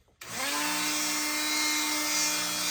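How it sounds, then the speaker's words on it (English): A hanging Dremel rotary tool switches on after a brief click and quickly spins up to a steady, high-pitched whine that holds close and constant to the end. "I keep the Dremel hanging up here, and then if I need it, I turn it on"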